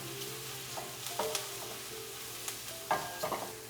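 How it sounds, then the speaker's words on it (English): Chopped mushrooms and onions sautéing in a pan give a soft, low sizzle under a few light scrapes and taps of a stirring utensil, quiet and close with no talk. "Let's saute the mushrooms here with the onions for 3 more minutes."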